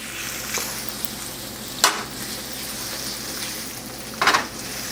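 Shrimp for Cajun pasta sizzle steadily in a pan, a continuous frying hiss broken by a couple of sharp clinks or scrapes of a utensil against the pan.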